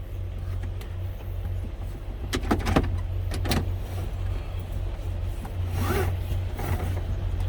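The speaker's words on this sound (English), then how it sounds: "when I get into the truck, the first thing I want to do is put my seatbelt on" Inside the cab of a 2015 Freightliner truck, a seat belt is pulled across with quick rustling and webbing slides, ending in a latching sound over a steady low engine hum.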